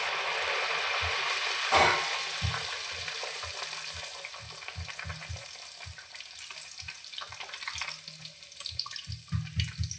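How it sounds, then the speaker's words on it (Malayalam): Bhatura dough deep-frying in hot oil, a steady bubbling hiss with a sharp surge near the start as a piece goes in, plus low knocks and scrapes of a utensil in the pan. "എണ്ണ ചൂടായി നമുക്ക് ഓരോന്നിട്ട് ചുട്ടെടുക്കാം."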